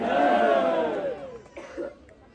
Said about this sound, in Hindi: जोरदार ताली बजाओ और बद्रीनाथ भगवान का जयकारा लगाओ।